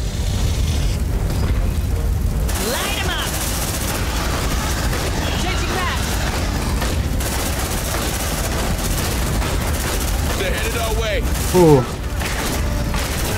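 Sustained gunfire and blasts in the tactical game Aliens: Dark Descent: a constant, loud wash of shots and rumbling booms lasting the whole stretch, with a voice speaking briefly over the din.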